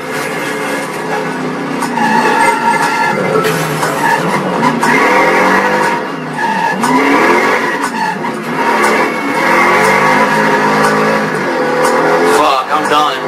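Car drifting with tire squeal in the driving game Driver: San Francisco: sustained screeching tires and engine roar run loud and continuous over game music, with a person talking over it.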